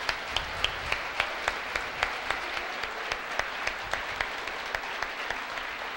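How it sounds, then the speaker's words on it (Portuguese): Steady audience applause welcoming the opening speaker at a conference in Brazil, a broad continuous wash of clapping with one person's sharper, regular claps standing out near the microphone throughout. "Uma salva de palmas."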